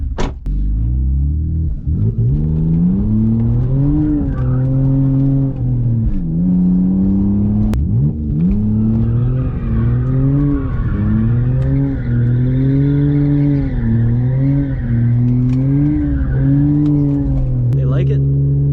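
A BMW E46 revs hard in a rough burnout, its engine rising and falling in repeated surges with rumbling exhaust and some tire squeal, loud and close throughout.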